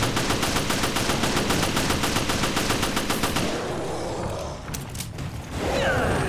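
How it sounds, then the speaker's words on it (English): Rapid handgun fire in the video game Resident Evil Revelations rattles out in a fast, steady stream of shots for about three seconds, then gives way to quieter mechanical game sounds and a few scattered impacts. "And now I use my handgun to do some good damage to him."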